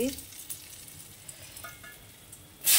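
Cumin seeds and a dried red chili frying in hot oil in a home kitchen, a steady close hiss and crackle throughout, with a louder sizzle burst at the very end.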